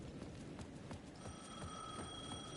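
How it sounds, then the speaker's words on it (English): A payphone rings at the edge of a plaza in the video game Alan Wake 2, a repeating bell-like ring under a dense, noisy game background with no talk. "The payphone at the edge of the plaza was ringing again."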